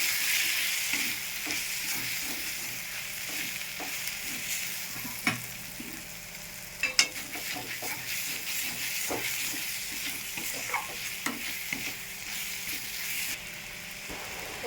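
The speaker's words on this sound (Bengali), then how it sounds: "জিরে, ধনিয়া, শুকনো লঙ্কার গুঁড়ো দিয়ে মশলাটা ভালো করে কষিয়ে নেব।" A masala of cumin, coriander and dried chilli powder for ghugni sizzles and hisses in a pan while being stirred, the spatula scraping in a steady, repeated rhythm over a constant frying crackle.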